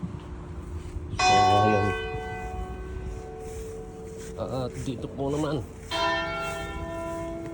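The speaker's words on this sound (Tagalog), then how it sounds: "Malapit lang po ako rito sa simbahan, kaya kumakalembang po yung kampana dito." Church bells ring out from a nearby church beside a small garden in Treviso, Italy, in two sustained, loud bursts of pealing separated by a spoken passage, with a person talking between them.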